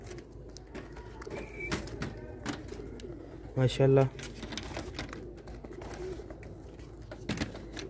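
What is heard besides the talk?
pigeons cooing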